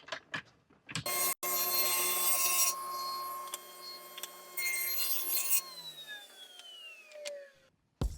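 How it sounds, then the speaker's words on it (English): A power saw rips walnut boards to width. The blade whines loudly and steadily for several seconds, with a bright cutting rasp, then falls into a descending spin-down tone. "we're going to take and rip 2 pieces of walnut at 2 3/8"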